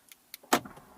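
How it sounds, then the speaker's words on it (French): A 2018 Kia Stinger GTS locked with its key fob: two light clicks, then a sharp clunk of the door locks engaging, followed by a brief faint mechanical whir. "je vous montre un cas concret où nous fermons la voiture"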